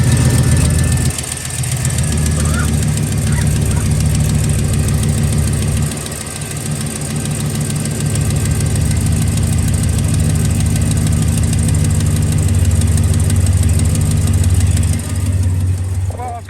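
A 2007-2013 Chevy Silverado truck engine fired up after an oil cooler gasket replacement, settling into a steady, close, loud idle with an even mechanical hum and slight dips in level.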